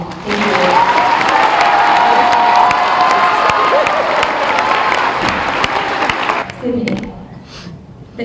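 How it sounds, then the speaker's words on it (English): A school geography bee audience bursts into loud applause and cheering for two contestants, a roaring crowd with shouts that fades out toward the end. "can you please give a big round of applause to Ryan and Tom?"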